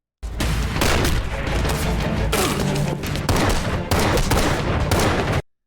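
A movie gunfight erupts in dense, loud bursts of gunfire and booms, a near-continuous barrage broken by a few brief gaps before cutting off abruptly.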